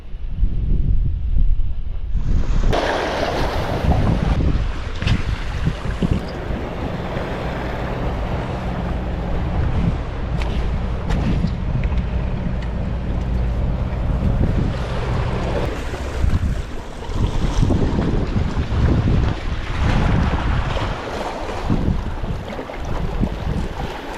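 Strong wind buffets the microphone on a fishing boat out on the water, a loud rumbling gusty roar with lapping waves and splashes underneath, continuous for the whole stretch and without speech.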